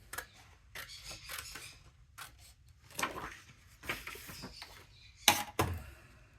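Scissors snip through thin decorative paper strips for a candy cane box, a run of close, rasping cuts with two sharper, louder snips near the end and no talking.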